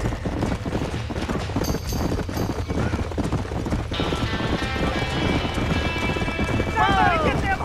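Horses neigh and whinny with clattering hooves inside a burning barn in the Red Dead Redemption video game, a shrill whinny rising near the end over a steady roar of fire and rumbling commotion, with voices talking throughout.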